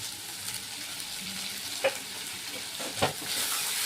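Food frying in oil in a pan with turmeric and salt makes a soft, steady sizzle at moderate distance, with two sharper clinks or stirring knocks partway through and no speech.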